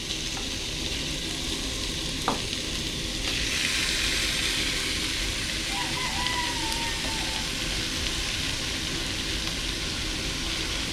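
Pieces of pork with a little fat hiss and crackle in a hot pan for white menudo, a loud steady sizzle that carries on close and unbroken with no voices.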